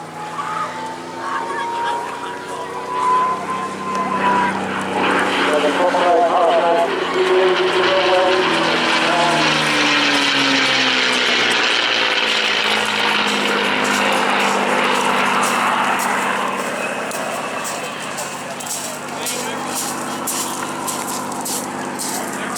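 A North American P-51D Mustang propeller fighter flies at the Eastbourne Airshow, its engine a loud, steady roar that swells as it passes and shifts in pitch, with a voice talking over it.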